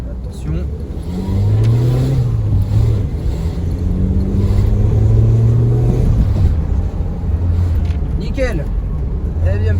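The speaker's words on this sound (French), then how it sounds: "La voiture roule à merveille" A car engine hums steadily while driving, a low rumble with rising and falling tones as it shifts, loud and close throughout, with a voice speaking over it.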